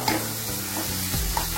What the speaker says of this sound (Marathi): चांगलं असं परतून घ्यायचं।